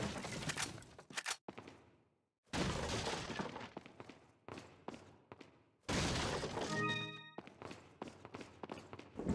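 Wooden barrels smashed in Resident Evil 4, heard as several loud bursts of splintering, cracking wood and thuds separated by brief silences, with footsteps and a short high ringing tone in between.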